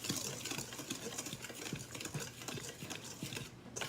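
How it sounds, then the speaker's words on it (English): Salt is whisked into a bread mixture in a bowl, giving a close, quiet, steady run of rapid scraping and clicking strokes with no talk. "we're just going to whisk that together, make sure it's all kind of incorporated"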